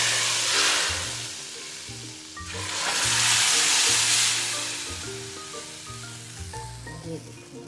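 Hot tadka tempering hits a pot of dal and sizzles loudly in bursts, crackling and hissing up close with stirring clatter and spoon knocks in between.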